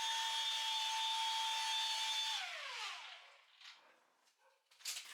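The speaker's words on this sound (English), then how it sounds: "I'm just doing the polishing stages now" A high-pitched polisher whine buffing black Venetian plaster runs steadily, then spins down and stops, followed by a few faint scraping and rubbing sounds.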